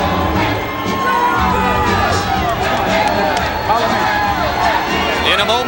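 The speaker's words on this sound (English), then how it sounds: "there is a sizable crowd on hand." A sizable crowd at a heavyweight boxing arena roars and cheers in a continuous loud swell of shouts and whoops, with an announcer's voice talking over the din.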